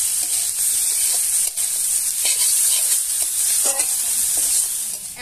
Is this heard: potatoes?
yes